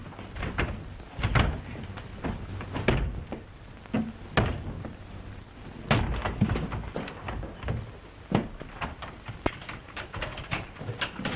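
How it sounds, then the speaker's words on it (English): A door in a house being opened, with a run of loud, close rattles, knocks and clatters spread over several seconds. "Open that door at once."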